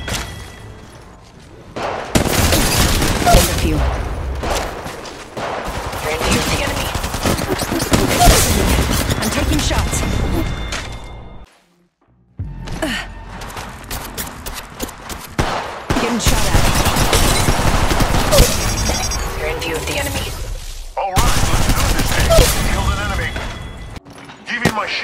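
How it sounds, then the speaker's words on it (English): Gunfire in a mobile shooter video game, long bursts of rapid automatic fire and booming shots, loud and close, broken by a brief silent gap. "Firing. Contact. Opening fire."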